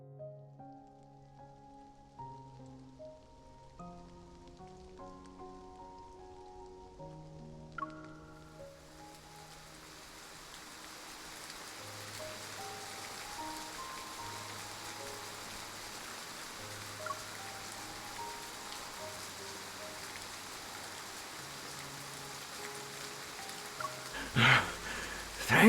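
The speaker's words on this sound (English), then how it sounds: "It's raining?" Steady rain falls in the video game Love and Deepspace, a soft continuous hiss that swells in over a gentle melodic music bed and holds evenly to the end.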